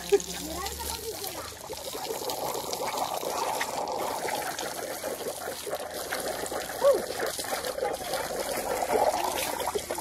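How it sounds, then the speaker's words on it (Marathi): A fast-flowing forest stream during a jungle trek makes a steady, close rushing wash of water, with muffled voices faintly underneath. "पाणी बघ एवढं फास्ट आहे बघ."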